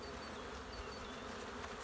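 Honey bees buzzing steadily at an opened hive during February hive care, a continuous close hum with no voices.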